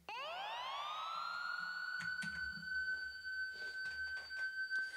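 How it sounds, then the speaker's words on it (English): A police siren used as a sound effect in a song wails upward and then holds a steady high tone, loud and continuous, as beat-like thumps and other mix elements come in underneath. "putting a police siren in the song"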